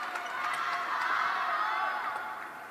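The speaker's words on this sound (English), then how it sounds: "you can hear the crowd really getting behind them as well" A table tennis crowd cheers steadily through the mixed doubles final at the 2025 World Table Tennis Championships, a sustained roar of voices with a few shouts rising above it.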